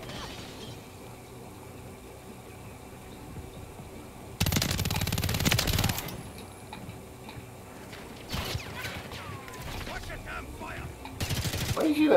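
A long burst of video game gunfire, then shorter volleys a few seconds later, loud and harsh over a quieter background of game ambience.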